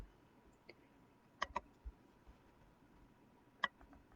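A computer mouse gives a few faint, sharp clicks in a quiet room, including a quick pair near the middle and another single click later.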